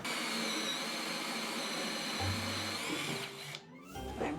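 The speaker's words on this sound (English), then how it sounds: "I do need to drill through the front hole." A power drill with somewhat dull bits whirs steadily and close by as it bores through the front hole of a glued workpiece, then winds down and stops, followed by small handling noises.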